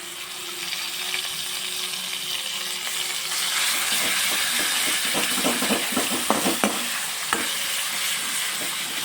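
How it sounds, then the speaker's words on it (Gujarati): Ginger, green chili and garlic paste sautéing in a pan for Gujarati kadhi khichdi, a steady sizzle with stirring and scraping clicks growing busier midway, close and alone without talk. "હવે આપણે આદુ મરચાં અને લસણની પેસ્ટ એક ટીસ્પૂન એને આપણે સાતળી લેશું"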